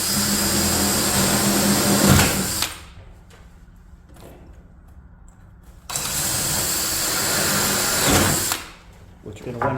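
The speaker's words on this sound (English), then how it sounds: "vacuum cleaner." A vacuum cleaner runs loudly in two long bursts, a steady broad roar that cuts off into quiet between runs, used on a passive solar heater build; no talking.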